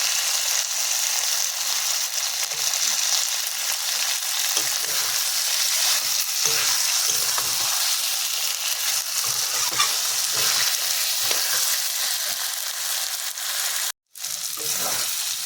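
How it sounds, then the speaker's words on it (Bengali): Meat for a Bengali curry fries and is stirred in a pan, producing a constant, loud, close sizzle with occasional scraping, interrupted once by a short silent break near the end. "দেখুন মাংসটা কষিয়ে নিচ্ছি, কষানো হয়েই গেছে।"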